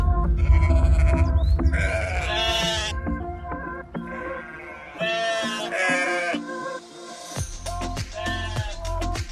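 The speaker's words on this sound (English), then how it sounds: "This list of most peaceful wouldn't be complete without sheep." Sheep bleat repeatedly in several overlapping, wavering calls, loud and close, with breaks between them and no talking.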